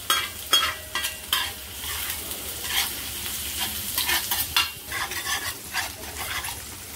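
Onions sautéing in a pan for a liver tawa fry, with steady sizzling and repeated stirring scrapes of a spatula against the metal, close and continuous, with no talking.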